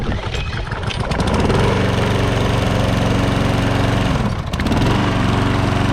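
An 11-year-old lawn mower engine cranks and catches, then runs at a loud, steady drone close by. It dips briefly and recovers before settling back into an even roar.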